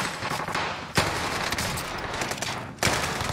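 Owen gun fire in a shooting video game: a loud, dense burst of rapid automatic shots rattles throughout, with two sharper heavy cracks standing out amid the continuous volley.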